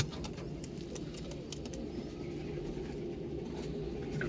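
Domestic pigeons, two pairs of males and females including a white hen, fill the air with a steady low cooing murmur, close by and continuous, with faint chirps and rustles scattered above.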